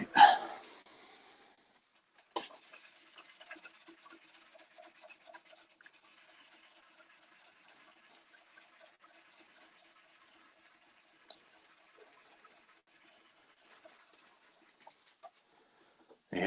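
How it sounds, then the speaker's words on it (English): A DiamondCast Tiny Giant blank spinning on a wood lathe is dry sanded at moderate speed, giving a faint, steady rasping rub with a sharper scrape near the start and quiet scattered taps later. "And there's our dry sanding."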